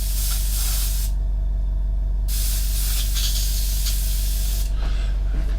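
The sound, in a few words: airbrush spraying airbrush cleaner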